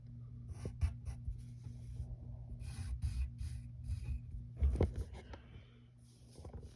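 Pencil scratches and rubs on paper in short strokes and longer sweeps, quiet and close, with no talking.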